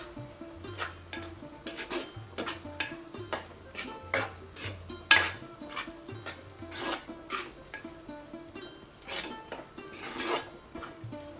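Prawn masala with curry leaves and green chillies being stirred in a pan, a spoon scraping and clinking against the metal in irregular strokes, with faint sizzling underneath.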